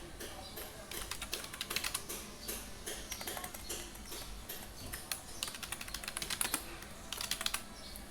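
Fast keystrokes on a computer keyboard as a college name is typed into a web page, a dense run of crisp clicks in uneven bursts with short pauses, close and fairly quiet, with no voices.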